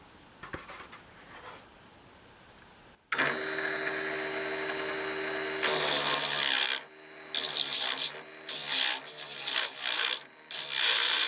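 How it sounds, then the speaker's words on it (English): V-shaped gouge cutting a wooden handle on a spinning mini wood lathe, a motor hum followed by bursts of raspy scraping that start and stop in irregular passes, close and fairly loud. "Now I'm going to use this V-shaped gouge to start working on the back."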